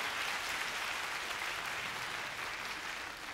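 Steady, dense applause from a concert audience at a spring one-man live show, a continuous wash of many hands clapping evenly throughout with no voices rising above it.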